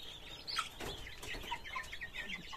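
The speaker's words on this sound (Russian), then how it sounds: "Хорошие тоже пухленькие цыплятки." Month-old Ross 308 broiler chicks cluck and peep close by in a group, a continuous chatter of soft clucks overlapped by higher cheeping calls.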